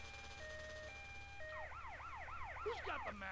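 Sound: ambulance siren in the video game Grand Theft Auto Vice City

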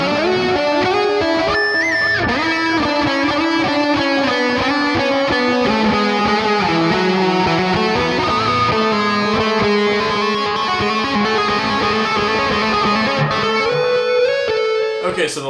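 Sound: seven-string electric guitar lead tone, neck pickup

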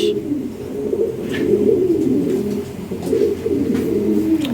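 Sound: pigeons cooing

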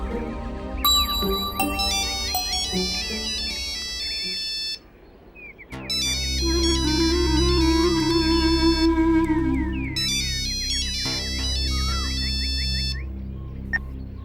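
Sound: phone ringtone

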